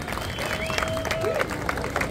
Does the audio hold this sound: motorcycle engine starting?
no